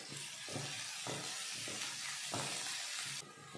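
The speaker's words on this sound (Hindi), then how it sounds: "प्याज भून चुकी है" Onions and green chillies fry in a pan with curry leaves and red chillies, a continuous loud sizzle and hiss with periodic stirring scrapes, close up and without speech.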